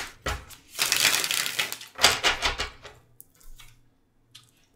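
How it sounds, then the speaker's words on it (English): A deck of tarot cards gets shuffled by hand in two quick riffling bursts, each a dense papery flutter, followed by softer taps and slides as the deck settles into quiet. "So let's do one more shuffle. Shuffle that into the deck."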